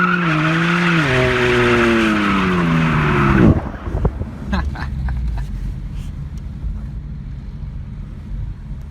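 A car does a burnout at a car meet, with a loud sustained tire squeal over a revving engine that cuts off sharply partway through. Crowd noise and a rumbling engine follow.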